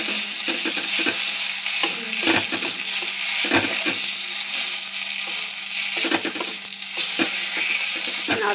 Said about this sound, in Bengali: নাড়তে নাড়তে ভেজে দিলাম,